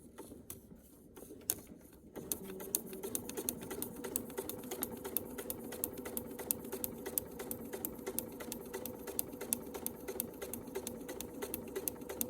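A sewing machine with an open toe foot stitches a Paper Peony quilt block. After a few soft clicks it starts up and runs in a steady, fast, close mechanical chatter that continues unbroken to the end.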